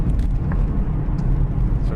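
A 2012 BMW 320d F30 diesel saloon in sport mode pulls hard on back roads, its engine a low, steady rumble heard from inside the cabin under road and wind noise.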